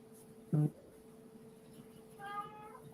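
A single short, loud cat meow near the start, followed by a softer, higher whining meow about two seconds later over a quiet room.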